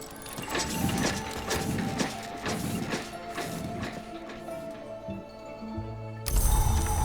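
A machine in the video game Book of Hours roars into life with water thudding and gurgling: dense mechanical churning with rhythmic thumps, steady and loud, then a sudden heavier surge near the end.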